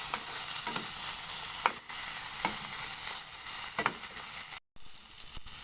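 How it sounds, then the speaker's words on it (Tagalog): Bitter gourd (ampalaya) sautéing with tomato and fresh shrimp paste in a pan, a steady close sizzle broken by sharp periodic scrapes of a spatula stirring, with a brief cut to silence near the end. "Gigisa tayo ng ampalaya."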